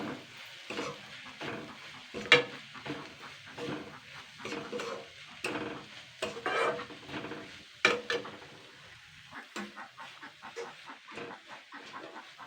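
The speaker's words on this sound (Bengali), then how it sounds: "এবার আমি এগুলোকে দিয়ে আমি আবারও একটুখানি দুই মিনিট মতো নাড়াচাড়া করে নেবো" An egg and masoor lentil curry mixture is stirred in a pan, with repeated scraping and clattering strokes over a soft sizzle and uneven bursts of movement, and no voices.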